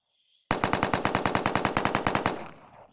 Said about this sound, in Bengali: স্নাইপার শুট করি